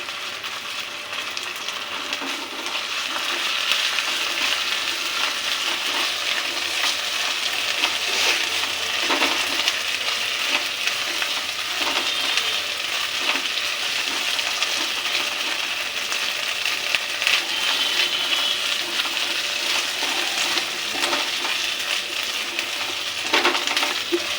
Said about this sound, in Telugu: ఒక స్పూను అల్లం వెల్లుల్లి పేస్ట్ ఇది కూడా వేగాలి